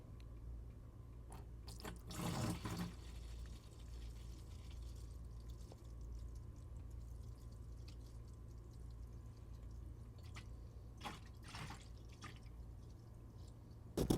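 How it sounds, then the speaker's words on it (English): Coolant trickling into the overflow tank of a 1990 GMC Sierra pickup, a faint wet pour and drips against a constant low hum, with a few brief bursts. "Put a little bit in this coolant overflow."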